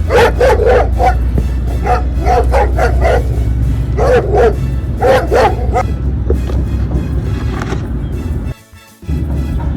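A dog barking sound effect played alongside a plastic toy dog: repeated clusters of sharp barks and yips in quick bursts, loud and close, with a brief dropout near the end.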